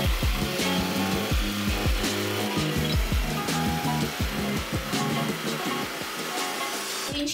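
A handheld jigsaw, the first cut by its operator, saws through a wooden board for a rounded-edge window shelf, its steady motor drone broken by rhythmic chattering strokes, close and loud throughout with no talk.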